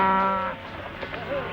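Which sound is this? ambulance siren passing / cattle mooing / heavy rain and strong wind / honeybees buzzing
cattle mooing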